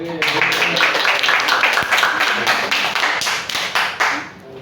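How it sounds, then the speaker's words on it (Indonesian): Students in a classroom clap in a brief, fairly close burst of applause with distinct individual claps, tapering off toward the end under some background chatter. "Kasih tepuk tangan dulu dong."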